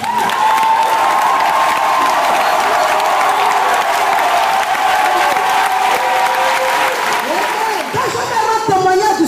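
A congregation at a French-language church service applauds and cheers in a loud, continuous wash of clapping and voices that holds steady throughout, with a brief dip near the end.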